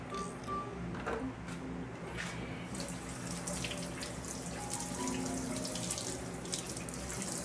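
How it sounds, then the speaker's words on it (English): Kitchen tap water runs over a pair of metal kitchen shears for a steady rinse, with faint clinks of the blades against the sink, close and continuous. "Go ahead and rinse off my shears"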